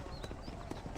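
Horse hooves clip-clopping in Red Dead Redemption, a steady run of soft, close hoofbeats with a couple of heavier thuds near the end and no talk over them.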